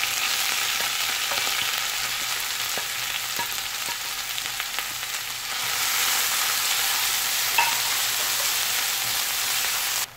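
Crushed onion and green peppercorns frying with clams in a pan, a steady, close, loud sizzle that runs continuously with faint stirring clicks and no voices.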